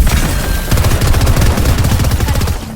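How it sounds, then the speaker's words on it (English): Rapid automatic gunfire in a battle royale shooter game, a loud dense burst of shots rattling continuously for nearly three seconds with booming low thuds. "I hear the shooting"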